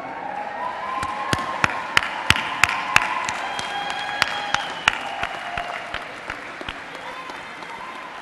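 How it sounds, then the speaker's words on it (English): Graduation audience at a Mount Royal University fall convocation clapping and cheering for their families, a dense sustained wave of applause with sharp individual claps and scattered cheers that gradually thins out. "I want you to give them the biggest wave and clap and cheer you can"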